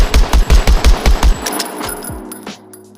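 Gun firing in a VR shooter game: a rapid loud burst of about eight evenly spaced shots, then a few scattered clicks and mechanical clatter as the shooting stops. No voices.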